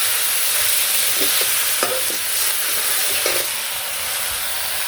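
Leafy village greens with salt fried in a pan, a loud continuous sizzle and hiss broken by a few clinking spatula strokes as they are turned over.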